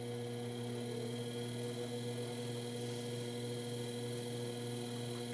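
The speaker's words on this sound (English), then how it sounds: "turning my wheel back on to medium speed" A potter's wheel motor runs at medium speed, giving off a steady, faint electrical hum with a constant tonal drone and no change in pitch, heard alone without talk.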